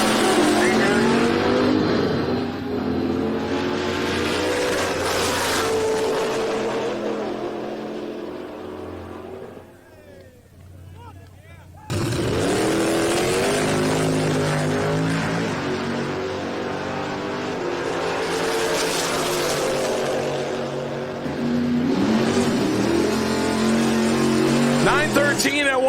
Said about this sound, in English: Left-hand side is Dan Watts in the stick shift 2003 model Mustang